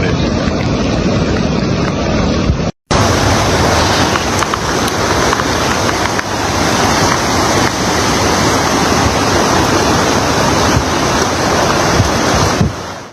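Floodwaters of the Guadalupe River surge and roar in a loud, continuous wash that fills the whole scene, with wind buffeting the microphone and a brief dropout near the start.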